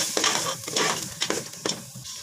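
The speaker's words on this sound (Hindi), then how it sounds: "अब मैं ये मसाले डाल दूंगी, होममेड मसाले जो मैंने ग्राइंड किए हैं, और मसालों को डाल के भी अच्छी तरह भुनाई करूँगी।" Beef for nihari frying with homemade ground spices, a spatula stirring in repeated scraping strokes over a continuous sizzle, close and fairly loud.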